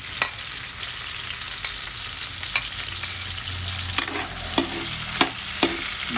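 Garlic and onion sizzle steadily in a pan, with a spoon knocking and stirring several times toward the end.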